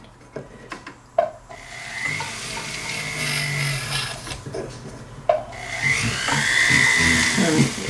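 Rotary tool fitted with a knife edge wheel smoothing crevices in a stamped metal pendant, a steady close whirring grind with brief sharp contacts and a brighter high-pitched scrape toward the end.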